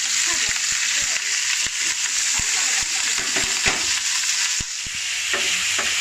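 Shawarma meat frying in a pan at home is stirred, making a steady loud sizzle with repeated scraping taps of the utensil close by.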